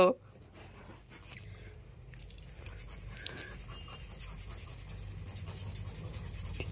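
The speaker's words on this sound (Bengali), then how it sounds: "বড় শক্ত শক্ত নখ, ঘষতে গিয়ে বাবা শেষ হয়ে যাবে।" A dog's hard nails being filed, a continuous soft scratchy rasping with voices talking over it.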